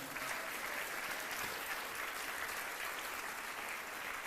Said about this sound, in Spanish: ¿Cuántos le dan un buen aplauso al Señor?